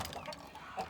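A hen clucks faintly inside a duck coop, giving a few soft, scattered clucks at low level with some background rustle.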